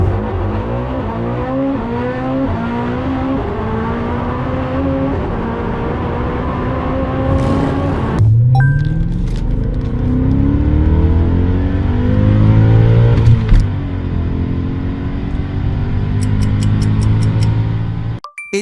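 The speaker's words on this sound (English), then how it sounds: "It's the BMW M5 E39." A BMW M5 E39 on launch control: the engine holds a loud revving drone, then launches with a rising wail through several gear changes and pulls hard away, close and unbroken.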